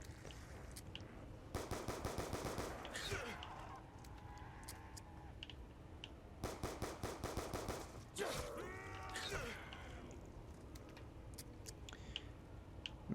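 Black Ops 2 Zombies gunfire on the Nuketown map: bursts of rapid automatic shots in several volleys, mixed with game effects and clattering, fairly close and loud with no talk.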